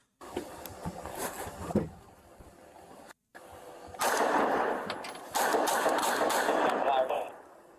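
Rapid gunfire from a video game, with bursts of shots firing near and loud in stretches and dropping briefly to silence, heard under excited talk from people in the room.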